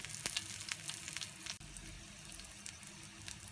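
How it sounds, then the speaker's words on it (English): Green chili, curry leaves and dry red chili sautéing in hot oil give a faint crackling sizzle with scattered small pops and a brief clatter partway through, quiet and close with no talk. "slitted green chili, curry leaves and dry red chili. Saute it well."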